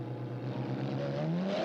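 A steady video game V12 engine drone with a rising pitch in the second half, like a high-revving car engine accelerating, continuous and fairly loud throughout, with a glitchy quality.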